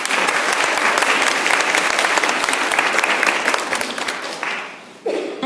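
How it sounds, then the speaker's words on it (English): Audience applause at a Lean In Belfast women-in-technology event, a dense steady roomful of clapping that tapers off near the end before a brief final burst. "So congratulations, Victoria. Round of applause."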